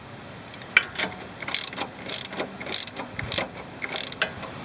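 Ratchet wrench tightening a 16mm upper control arm pinch bolt on car suspension, close and clicking in short bursts of rapid pawl ticks separated by brief pauses.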